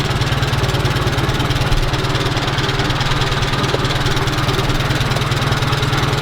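An Allis Chalmers WD tractor engine runs at a steady, loud, close-up idle with a rapid low throb and no voices over it.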